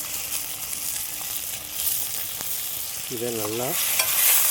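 Ginger garlic paste sautés in a hot pan for a village-style chicken fry, with a steady close sizzle, scraping stirs and a brief tonal warble partway through; a voice speaks briefly.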